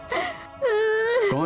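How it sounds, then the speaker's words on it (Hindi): A loud, drawn-out wailing cry, sustained and mournful with a rising tail at the end, attributed to weeping trees and flowers in a Hindi television drama, heard close with a softer wail before it. "कौन ऐसे जोर से रो रहा है?"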